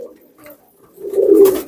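A pair of Royal Teddy pigeons coos close by, a soft low murmur early on swelling into a louder, throaty coo near the end.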